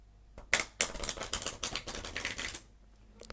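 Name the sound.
riffle shuffle of playing cards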